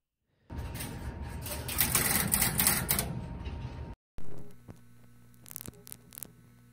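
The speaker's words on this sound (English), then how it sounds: "As soon as the terminating sender connected to us, it started pulsing at us, just like the commutator of a panel selector would." A No. 1 Crossbar telephone exchange's terminating sender pulses down the line: a steady electrical hum with rapid buzzing, chattering pulses, then an abrupt break followed by quieter relay clicks and tones over a constant mains hum.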